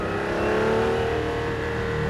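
Jaguar XJR-9 race car engine at a steady, loud, dense drone with rich harmonics, blipping through a heel-and-toe downshift to first gear, close up from the cockpit with no talking.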